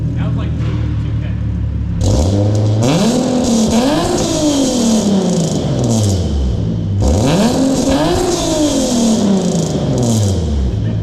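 A car with a custom single exit exhaust revving hard twice, each rev climbing and falling back, loud and close, with a brief voice in between.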